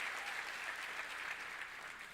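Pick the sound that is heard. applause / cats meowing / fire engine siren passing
applause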